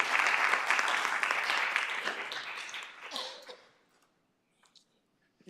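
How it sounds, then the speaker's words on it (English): Dense applause from attendees at a community college district board of trustees meeting, loud and sustained for about three seconds before tapering off into near silence. "Let's give him a round of applause in the back."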